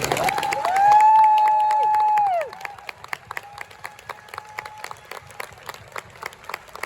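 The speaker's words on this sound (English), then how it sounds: "Can we give them a huge round of applause?" Audience at a running show panel talk applauds with scattered clapping, opening under a loud whoop and high cheering voices, then thinning to sparse, individual claps.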